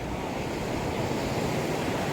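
Surf washing onto the beach at Teluk Bayu, a steady, continuous rush of breaking waves with wind noise mixed in, fairly close and uninterrupted, with no voices.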